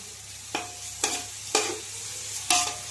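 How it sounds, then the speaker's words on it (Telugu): Rice frying in masala for chicken pulao, a soft background sizzle broken by four evenly spaced scraping stirs of a spoon in the pan, close and clear, no talk. "బియ్యాన్ని బాగా మసాలాలో వేగనిద్దామండి"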